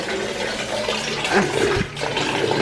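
Water runs steadily, as from a tap or bath, while a pet is being bathed. The rush is loud and close and continues through the short stretch.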